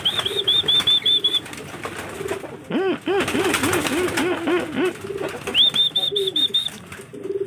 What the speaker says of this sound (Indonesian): Nah, ini udah mulai pada keluar ya merpati posnya.